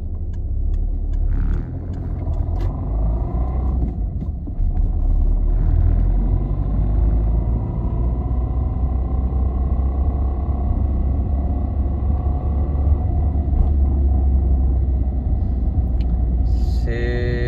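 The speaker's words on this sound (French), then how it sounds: "il y a un gros bruit au niveau de la boîte de vitesse, en première, en deuxième, en troisième" A car's gearbox making a loud noise in first gear on a Peugeot 207 project car, heard as a steady heavy engine and drivetrain rumble that runs the whole time, close and loud.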